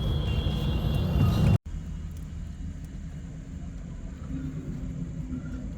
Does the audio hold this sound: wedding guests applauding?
no